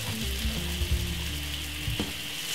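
Butter sizzling in a non-stick frying pan on the stove, a constant close frying hiss with a low background hum and a short clatter near the two-second mark.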